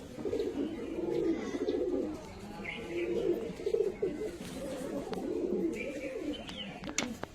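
Fancy Andhra pigeons coo in a loft, several birds producing overlapping low warbling calls that run steadily, with occasional higher chirps and light clicks near the end.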